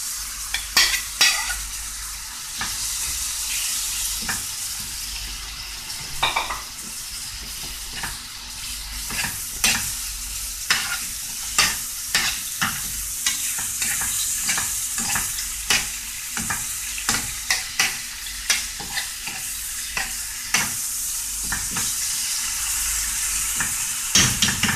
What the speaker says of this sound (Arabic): خلوهم يتقلاو شوية مع بعض هكا، ونفرغوا الدجاج.